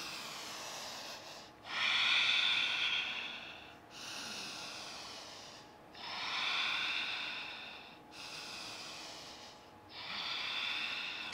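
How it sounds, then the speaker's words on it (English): Slow, deep breathing during a yoga practice, with four or five long audible breaths through the nose, each a soft airy rush separated by short pauses, close and fairly quiet. "Three deep breaths here."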